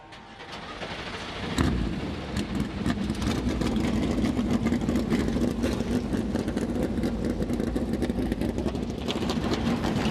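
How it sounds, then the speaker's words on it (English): NASCAR Cup Series stock car engines fire up at Homestead-Miami Speedway, a mile-and-a-half banked oval: a sudden start after a quiet second, then a loud, sustained rumbling roar of many engines. "engines roar to life as these drivers get set to tackle the progressive banked mile-and-a-half oval"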